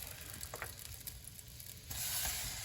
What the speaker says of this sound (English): I'm gonna start by browning up the entire ground beef.